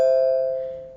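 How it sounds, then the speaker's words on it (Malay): A single doorbell chime rings out, one bright clear tone that starts sharply and fades slowly, close and alone with no voices. "Apabila loceng pintu ditekan,"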